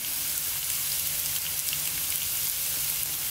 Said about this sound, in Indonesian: Kita tumis lagi hingga harum dan benar-benar matang ya bumbunya ini.